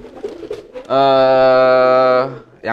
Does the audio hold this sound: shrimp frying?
no